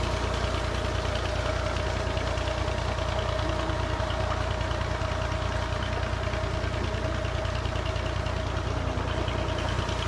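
A steady tube well pump engine drone runs without pause, a low chugging idle with a constant mid-pitched hum on top, loud and close, no voices.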